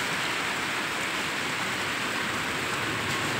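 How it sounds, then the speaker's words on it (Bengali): Heavy rain comes down hard, a close, even hiss of downpour that stays constant and fills the short stretch with no voices. "বৃষ্টি কিন্তু জোরদার নেমে গেছে"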